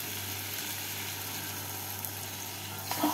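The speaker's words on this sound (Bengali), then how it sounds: "জল দিয়ে ঢ্যাঁড়স আর আলুগুলোকে নেড়ে নিচ্ছি।" Okra and potatoes simmering in a pan after a cup of water is added, giving a soft, steady sizzle and bubble with a faint stir near the end.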